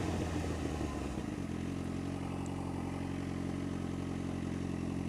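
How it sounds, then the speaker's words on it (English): A Suzuki GSX-R 600 motorcycle engine idles nearby with a steady low rumble, a brief throttle blip in the first second and a half, then settles into an even, continuous drone with no talk. "This bike sounds good though."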